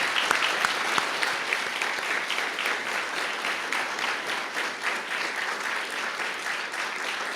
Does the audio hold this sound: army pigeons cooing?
no